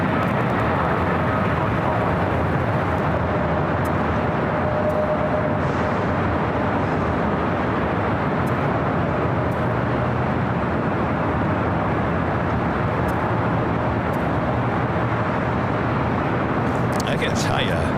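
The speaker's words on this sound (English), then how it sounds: "We do have a 777 freighter rolling down." A Boeing 777 freighter rolls down runway 25 right at LAX, a sustained distant engine rumble and roar beneath ongoing talk.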